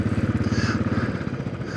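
Royal Enfield Classic 500 EFI single-cylinder motorcycle pootling along an uneven country back road, its steady low thumping engine beat loud and close with wind rush, no talk over it.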